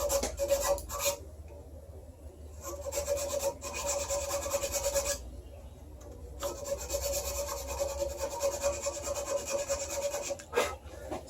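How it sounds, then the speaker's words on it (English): A hand file rasps back and forth inside the groove of a wooden self nock on a primitive arrow, in steady close strokes with short pauses between runs. "I'm going to use this file here, and I'm going to clean up the inside of the groove."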